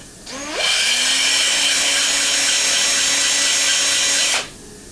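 A drill on a Bridgeport knee mill whirs steadily at close range for about four seconds, spinning up quickly and then cutting off abruptly, with no talking.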